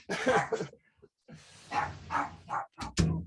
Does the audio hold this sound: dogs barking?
yes